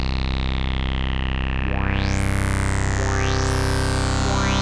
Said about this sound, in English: You can hear the filter's got an envelope on it.